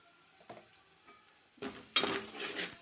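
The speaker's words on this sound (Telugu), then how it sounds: "ఇంత అల్లం ఎల్లిగడ్డ పేస్ట్ వేసుకొని అలానే కొద్దిగా పసుపు కూడా" Ginger garlic paste with turmeric hits hot oil in a pan and bursts into a close sizzle, stirred briefly after a quiet start.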